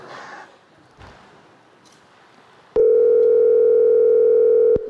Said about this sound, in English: David, can you dial the same number again, please?